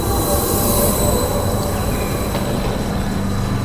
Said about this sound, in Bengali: এই যে একটা ট্রেন এসছে, 11:13 ট্রেন